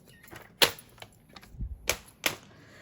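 A paper trimmer cuts through card for a handmade birthday card, making a few sharp, close clicks and snaps with short quiet gaps between them.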